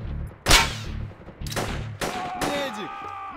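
Several loud, sharp gunshots crack in a video game, spaced irregularly with echoing tails, and a few near bursts close together, under quiet talk between players.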